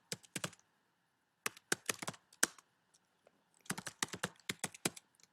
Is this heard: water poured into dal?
no